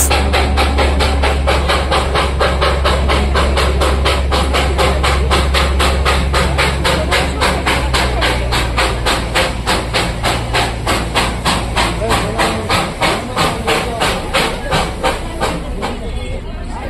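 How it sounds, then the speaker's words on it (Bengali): A Darjeeling Himalayan Railway steam locomotive chuffs close by in a loud, regular rhythm of hissing exhaust beats over a low rumble, the pulses continuing steadily as it approaches. "আর তার পিছনেই আসছে স্টিম লোকোমোটিভ।"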